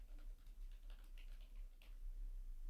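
Light tapping on a computer keyboard, quick faint keystrokes in a short run over a low steady hum.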